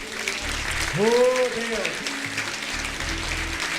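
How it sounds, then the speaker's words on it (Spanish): A congregation applauds during a church worship service, a steady wash of clapping under a voice calling out. "Vamos aplaudir nosso Deus."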